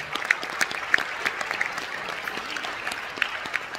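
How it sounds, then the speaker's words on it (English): A small audience at a school jazz band concert claps steadily for several seconds in an even, moderately loud round of applause, with no voices over it. "Let's give her another round of applause."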